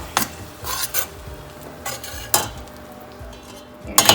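A spoon stirs mashed potatoes into spices cooked with a little water in a pan for Kacchi dabeli. A few close, scraping strokes against the pan come in bursts, with quiet gaps between them and no talking.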